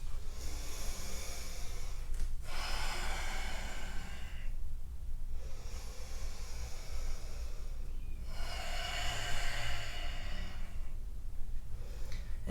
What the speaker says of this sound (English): We'll take 2 more deep breaths.